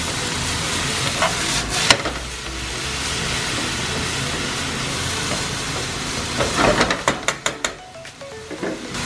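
A cabbage mixture for Japanese tonpeiyaki is stirred in a frying pan. A steady close sizzle runs throughout, ending in a burst of quick scraping and clattering strokes of the utensil against the pan.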